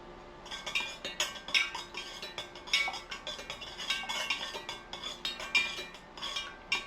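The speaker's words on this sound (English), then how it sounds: "stir really, really well" Fragrance oil is stirred into melted candle wax with a metal utensil, giving a steady run of quick, rhythmic clinks and scrapes against the container, close and clear, with no voices.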